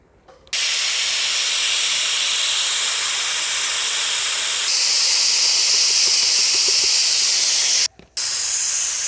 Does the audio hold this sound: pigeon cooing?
no